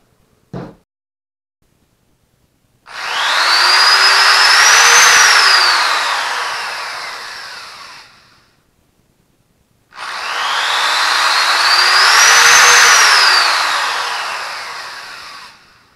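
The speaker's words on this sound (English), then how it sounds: "and drill our holes." A power drill boring pilot holes into a wood board for a homemade LED grow light, two sustained whirring bursts of several seconds each that rise and fall in pitch, separated by a short silence, loud and close with no talking.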